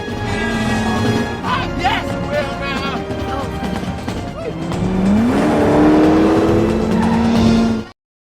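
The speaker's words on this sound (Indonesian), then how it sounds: "Dia saat ini membalap menggunakan Chevrolet Monte Carlo untuk mengikuti kejuaraan NASCAR" A Chevrolet Monte Carlo NASCAR race car roars around a racing circuit, its loud engine rising in pitch and holding high near the end, with tire squeal and voices mixed in before it cuts off abruptly.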